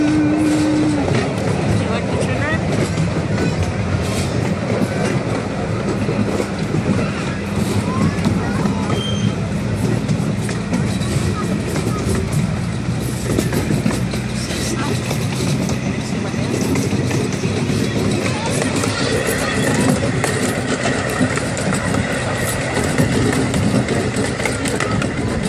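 A small ride-on train rolls through Zilker Park, a continuous rattling clatter of wheels and track under chatter from riders, with a voice and an adult speaking nearby.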